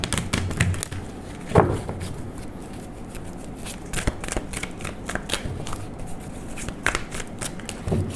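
A deck of tarot cards is shuffled by hand close up, a run of soft papery riffles and slaps in uneven bursts, with one louder flick, all without speech.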